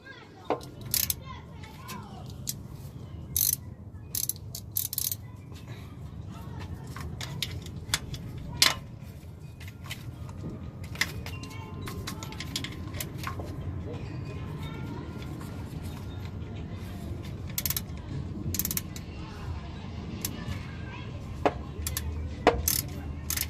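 Tightening the vehicle speed sensor on a 2008 Chevrolet Silverado with a ratchet gives sharp, scattered metallic clicks and clinks over a steady low background hum, while people talk.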